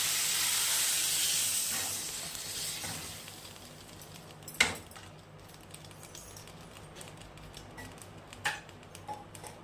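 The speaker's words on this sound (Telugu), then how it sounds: "నీళ్ళు ఈ విధంగా పోసుకోవాలి" Water poured into a hot pan of pepper roast chicken fry sets off a loud steaming hiss that slowly fades, leaving a quieter simmer with a few sharp clicks and ticks.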